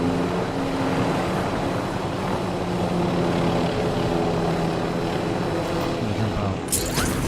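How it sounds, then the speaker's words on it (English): A helicopter flying in Call of Duty Verdansk battle royale gives off a steady rotor and engine drone that hums low and continuous throughout, with faint voices beneath it. "It's hard to do that while you're in the chopper."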